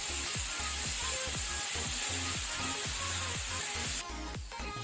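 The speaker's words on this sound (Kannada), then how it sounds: "ಈಗ ನಾವು ಆನಿಯನ್ ಕಲರ್ ಚೇಂಜ್ ಆಗೋ ತನಕ ಮೀಡಿಯಂ ಫ್ಲೇಮಲ್ಲಿ ಫ್ರೈ ಮಾಡ್ಕೊಳ್ಬೇಕು." Onions with green chilli and salt frying in a pan on a medium flame, giving a steady close sizzle with rhythmic scraping stirs throughout, the hiss dropping slightly near the end.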